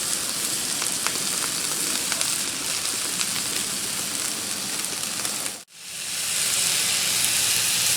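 Steak and onions sizzle on a Blackstone griddle, a steady close hiss and crackle that briefly drops away for a moment, then returns at full strength.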